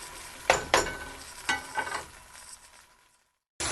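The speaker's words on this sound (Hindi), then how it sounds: "2 अदद मिर्चें हमने काटी थी वो भी हम इसी के अंदर ऐड कर देंगे, और इसको 4 से 5 मिनट तक पकाएंगे" Green chillies hit a pan of tomato masala with ghee for dhaba-style daal mash, giving a few sharp stirring clatters over a bubbling sizzle that fades to near silence before loud frying resumes abruptly.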